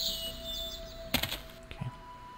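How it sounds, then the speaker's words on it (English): Ambient birdsong in the shooter game Shadow Warrior Classic Redux: a few thin, faint chirps over a steady background hum, broken by a couple of soft thuds. "I guess the birds are just playing loud."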